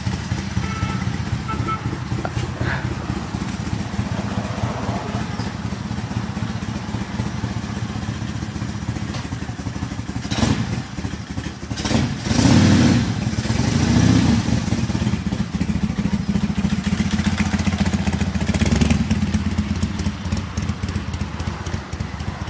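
A 1974 AMF Harley-Davidson motorcycle rumbles on a sunny road, a steady loud engine drone that swells as it passes close by, then settles back to a constant roar.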